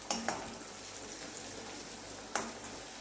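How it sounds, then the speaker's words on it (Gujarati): A medium onion sautéing in a pan over a medium gas flame, a faint steady sizzle with a couple of sharp utensil clinks against the pan. "ડુંગળી એડ કરીશું। એને થોડી સોફ્ટ થાય ત્યાં સુધી આપણે શેકી લઈશું"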